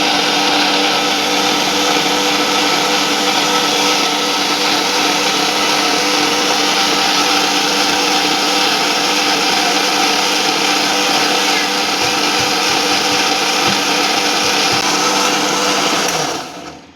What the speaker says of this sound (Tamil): இப்போ வந்து தேங்காய் வந்து நல்லா ஃபைன் பேஸ்ட்டாக அரைச்சி வச்சுக்கணும்